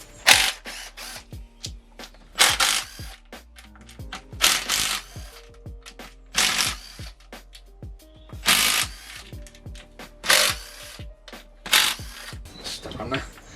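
A ratchet works bolts loose on the valve cover of a Ford Fiesta Mk5 Zetec S engine during a rebuild, producing repeated close bursts of rapid clicking separated by short pauses, with someone talking in between.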